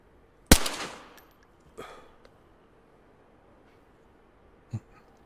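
A single sharp, loud rifle shot in DayZ cracks and rings out with a decaying tail, followed by a fainter shot a second later and a small distant crack near the end, with near silence between.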